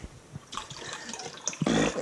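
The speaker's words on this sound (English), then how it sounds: "We'll take a bit of a sparkling water here." Sparkling water is poured while cooking deer broth, a fizzing trickle that builds into a louder, fuller splash of liquid toward the end, with no talk.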